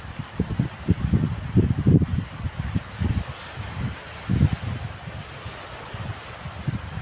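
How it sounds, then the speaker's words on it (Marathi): Small, gentle sea waves on calm water on a new-moon day, rolling in continuously as soft repeated low washes mixed with wind noise, close by and with no voices. "लाटा कंटिन्युअस येत आहेत छोट्या छोट्या लाटा आहेत अगदी छोट्या छोट्या त्यामुळे आवाजही लाटांचा कंटिन्युअस आहे"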